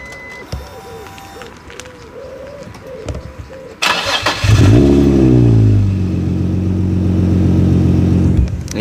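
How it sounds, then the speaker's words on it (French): A Nissan 350Z fitted with a nitrous kit starts up outdoors, cranking into a loud idle that swells into sustained revving while stationary, with birds chirping faintly before ignition. "on va démarrer la 350Z. Vous allez voir le son juste à l'arrêt."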